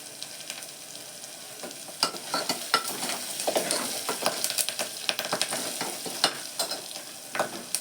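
Curry leaves drop into softened onions frying in a pan, setting off a steady crackling sizzle with occasional stirring scrapes and small clinks, close and continuous without any talking.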